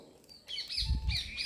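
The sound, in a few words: crow calling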